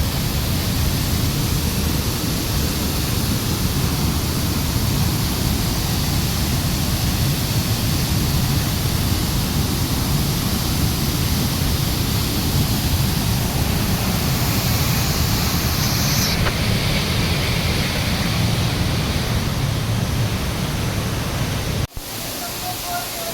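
A big waterfall at Bhandardara, a loud steady roar of falling water filling the whole scene without letup, with a brief break near the end.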